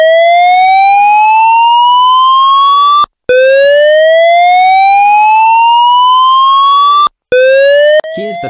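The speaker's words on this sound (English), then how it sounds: "The alarm has been activated on Loop 1 Module 4 Zone 1, which is a manual call point" A building fire alarm evacuation siren set off from a manual call point wails loud and close in repeating rising-and-falling sweeps, with two brief cuts before it resumes; no voices.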